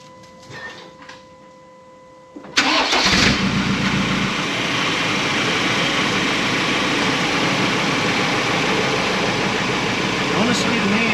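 A Ford Ranger Raptor fitted with an XForce exhaust cold-starts on a hot day, a sudden loud crank and catch followed by a steady, even idle that continues alone to the end.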